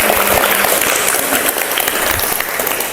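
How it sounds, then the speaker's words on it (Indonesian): An audience at a group session on emotion management gives loud, sustained applause throughout, with a faint crowd murmur mixed in. "tepuk tangan untuk semuanya."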